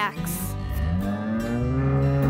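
A Holstein cow lets out one long, loud, close moo that rises and holds steadily before trailing off, with no voices over it.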